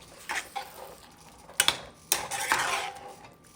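Fried chicken being stirred and tossed in a pan for hot garlic chicken, giving a string of close metallic scrapes and clinks in uneven bursts, loudest around the middle of the clip.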